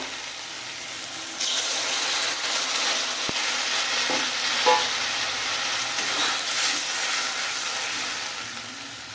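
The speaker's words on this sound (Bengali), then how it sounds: "মশলাটা কষানো হয়ে গেছে এবার জল দিয়ে দেবো" Water hits fried spice paste in a hot pan for a bhola fish curry, setting off a sudden loud sizzle after a quiet start that then hisses and bubbles steadily with light stirring scrapes.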